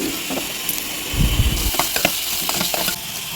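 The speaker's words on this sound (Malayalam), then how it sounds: "രണ്ട് സവാള അരിഞ്ഞിട്ട് നമ്മൾ ചേർത്ത് കൊടുക്കുന്നുണ്ട് കേട്ടോ അതിനുശേഷം അത് നല്ലപോലെ വഴറ്റിയെടുക്കണം" Two chopped onions sautéing in a pan with salt, a constant loud sizzle with a few scraping stirs and clinks of the spoon against the pan.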